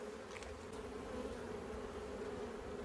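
Honeybees buzz steadily during a fall hive inspection, a continuous faint droning hum of many bees close by with no talking.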